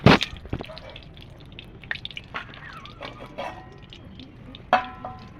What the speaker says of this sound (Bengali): আমি তেলটা দিয়ে দেবো সর্ষের তেল কড়াতে